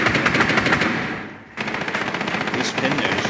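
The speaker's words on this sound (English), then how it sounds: "Shoot the soft wall next to that castle." Rapid automatic gunfire in the Rainbow Six Siege video game on the Consulate map, loud and sustained, breaking off briefly midway before another sustained burst, with some speech underneath.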